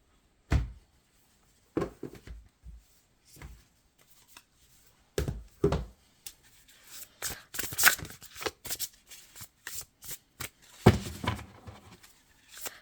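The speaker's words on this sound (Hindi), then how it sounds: "मैं इसको शफल करके ऐसे रखूँगी" Tarot cards being shuffled by hand, with close papery riffles and slaps in irregular bursts separated by brief pauses.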